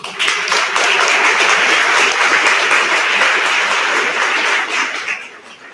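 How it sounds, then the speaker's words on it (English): A large audience at a gala-style event gives a full round of applause for the sponsors, dense, loud and sustained clapping that holds steady for about five seconds before tapering off. "So please give me a round of applause for the sponsors for tonight's event."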